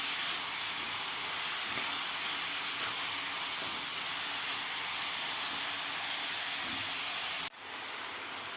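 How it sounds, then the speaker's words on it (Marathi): Grated carrot sautés in ghee for carrot halwa: a steady close broadband hiss with faint soft stirring bumps, then a sudden drop to a quieter hiss near the end. "3 ते 4 मिनिट ह्या तुपामध्ये व्यवस्थित गाजर परतून घ्यायचं आहे."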